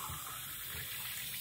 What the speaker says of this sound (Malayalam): ഇനി നമ്മൾ വെള്ളം എടുക്കണം